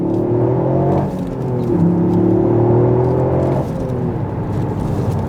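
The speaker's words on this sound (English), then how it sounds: "it's a 3-cylinder and has its own sort of piped in engine noise" Toyota Yaris GR with its 1.6-litre turbocharged three-cylinder engine pulling hard on the road, a loud, steady droning growl that rises in pitch through the gears, with brief dips at each shift.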